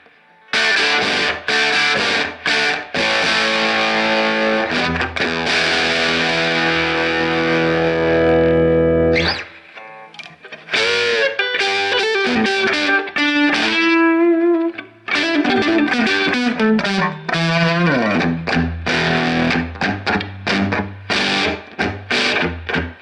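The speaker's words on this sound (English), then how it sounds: "sounds like a vintage 70s almost with a fuzz box or something" A PRS SE Custom 24 electric guitar played through a Crate 1R vintage amplifier gives loud, fuzzy distorted chords and riffs with reverb, breaking off briefly around the middle before picking up again.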